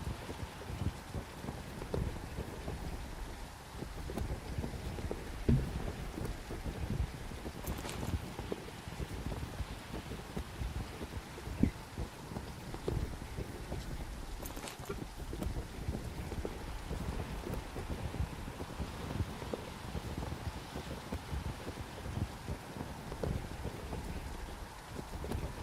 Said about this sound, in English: I can't tell now because of the rain.